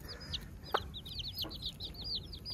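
A hen clucks softly and repeatedly while many chicks peep in quick high chirps throughout, fairly close, with faint background noise.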